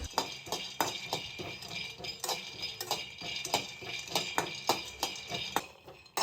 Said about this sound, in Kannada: ಇವಾಗ ಶೇಂಗಾನ ಹುರ್ಕೋತಾ ಇದ್ದೀನಿ